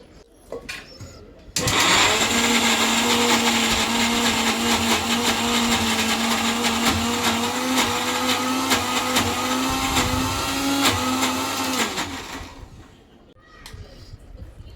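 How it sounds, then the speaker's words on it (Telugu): A kitchen mixer grinder whirs loudly for about ten seconds while blending a thick tamarind paste, starting abruptly and cutting off, with brief voices and handling noises before and after. "ఈ వాటర్తో నేను మిక్సీ పట్టేస్తాను"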